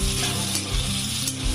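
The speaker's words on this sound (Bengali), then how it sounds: "হ্যাঁ, পেঁয়াজটা তো ভাজতে হবে।" Onions sizzle steadily in a hot pan while a utensil stirs them, with close scraping strokes recurring every half second or so over the continuous frying hiss.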